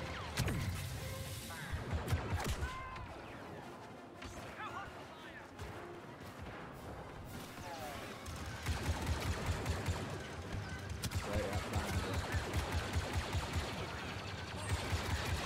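Distant blaster gunfire crackles in scattered bursts during a battle on Kashyyyk in Star Wars Battlefront II (2017). Rapid thumping volleys build toward the end, and someone talks over much of it.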